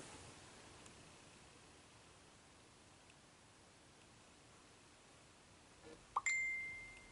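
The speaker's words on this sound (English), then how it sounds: "And that's my phone." A phone notification chime rings out once near the end, a short bright ding that stands alone over a quiet background hiss and fades away quickly.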